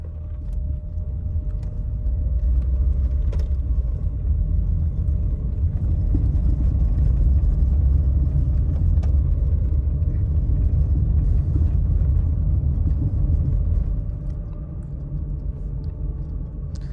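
Inside a 1996 Mercedes-Benz W202 on the move, a steady low engine and road rumble swells after the first seconds, holds through the drive with small clicks and knocks, then eases off near the end.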